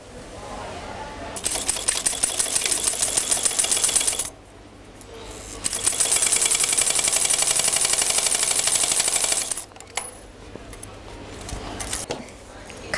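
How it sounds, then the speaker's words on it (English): A sewing machine stitches straight across bonnet fabric in two steady, fairly loud whirring runs separated by a short pause, and then stops, leaving faint handling sounds. "place a pin and stitch straight across the line here"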